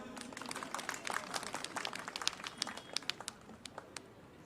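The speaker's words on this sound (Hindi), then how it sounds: "तो ताली बजाओ।" Audience clapping at a comedy show with a Sardar joke comedian, a dense, crackly wash of many hands, steady through the stretch and fairly quiet, with no talk over it.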